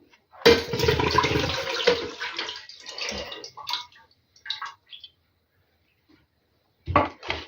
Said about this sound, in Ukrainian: І так зараз з кожної баночки зілью воду.